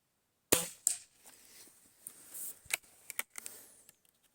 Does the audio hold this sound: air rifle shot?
yes